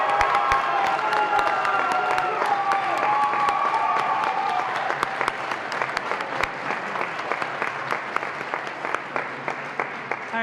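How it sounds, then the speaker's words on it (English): Sustained applause from a high school band concert audience honoring the band's seniors, dense and steady at first, then thinning into scattered individual claps with a few cheers. "let's give our seniors a round of applause"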